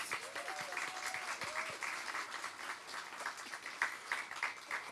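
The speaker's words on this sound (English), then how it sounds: "give another round of applause to all of our fantastic healthcare workers" A live-streamed charity event audience gives a round of applause for healthcare workers, fairly quiet and distant steady clapping with a few voices briefly audible underneath.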